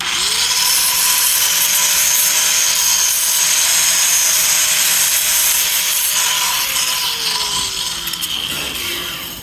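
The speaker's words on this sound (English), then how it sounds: "I'm comfortable using the grinder. I just go through here and cut off all these retaining strings." An angle grinder cuts through the retaining strings on a refrigerator compressor that is being scrapped for copper. It gives a loud, continuous high-pitched whine with a steady tone and tails off near the end.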